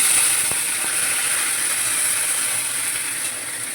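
Vegetables (pumpkin stems, potato, okra) hit hot oil seasoned with panch phoron, giving a steady, loud broadband sizzle with a couple of faint clicks near the start.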